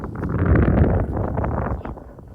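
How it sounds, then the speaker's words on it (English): Wind gusts buffet the microphone on an open disc golf course, a low rumbling roar that rises and falls over a couple of seconds with no voices. "You hear the wind."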